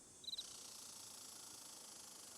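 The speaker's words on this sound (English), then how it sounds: "That's a cricket." Cricket chirping in the Nancy Drew: Ghost Dogs of Moon Lake video game: a short, bright trill of a few pulses near the start, then a steady high insect drone sustained through the rest, alone with no talk.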